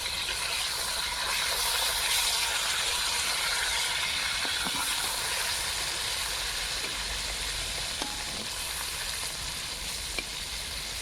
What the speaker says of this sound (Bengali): এইভাবে আস্তে আস্তে ভেজে নেব।